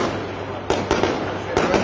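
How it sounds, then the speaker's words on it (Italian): Fireworks set off at night in Palermo pop in several sharp, separate bangs over a dense, steady background roar of noise. "lo sperone risponde con i fuochi d'artificio"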